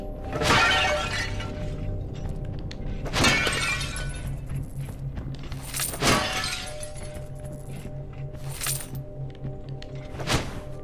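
Objects smashed one after another in an Italian-language video game, four loud crashes of shattering glass and breaking debris spaced a few seconds apart, each ringing off with tinkling fragments.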